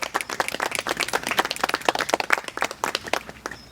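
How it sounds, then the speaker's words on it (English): Audience applause at a community meeting about the future of a property, many hands clapping in a quick uneven patter, close and lively, fading slightly toward the end with no talk over it. "I want to applaud Mark, and I'll be there to help him"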